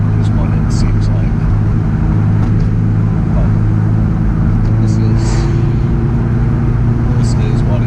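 A loud, dilapidated motor-swapped Subaru WRX STI making about 450 horsepower, its engine droning in a heavy, continuous low rumble that stays close and constant while people talk over it.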